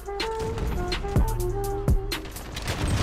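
Gunfire in the shooter game Call of Duty: Modern Warfare. Repeated shots and bursts crack over a steady bed of game noise, with a couple of heavy booming impacts in the middle.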